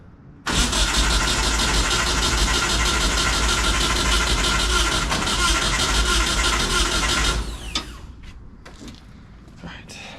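Small engine cranking to start, a loud steady mechanical churning that runs for about seven seconds before cutting off, followed by faint clicks and quieter background noise.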